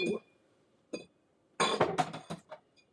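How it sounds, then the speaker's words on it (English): Glass clinks against a metal cocktail shaker as a glass is set into it while making tequila cocktails, a few sharp chinks spaced apart and then a brief cluster of rattling knocks, close and clear. "One more glass goes in."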